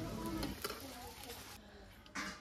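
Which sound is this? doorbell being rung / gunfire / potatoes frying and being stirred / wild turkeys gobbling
potatoes frying and being stirred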